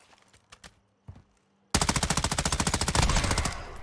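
A TR-76 Geist assault rifle in MW2 DMZ fires one loud, close, rapid automatic burst of evenly spaced shots lasting about two seconds, after a few quieter isolated clicks and thumps.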